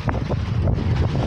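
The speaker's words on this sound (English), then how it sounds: "A little windy out." Strong wind buffets the microphone on a Lake Michigan shore by big rocks and water, a constant loud low rumble with gusty fluctuations throughout.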